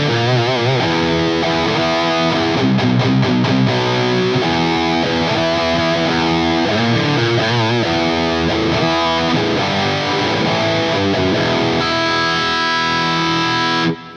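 A heavily fuzzed electric guitar through an Axe-Fx pi fuzz plays a gritty, buzzing riff with choppy notes and sustained chords, loud and continuous until it cuts off at the end.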